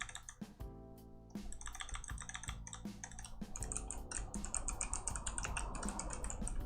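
Rapid, irregular keystrokes on a computer keyboard as a file name is typed into SmartPLS software, crisp close-up clicks running steadily throughout with a faint low hum underneath.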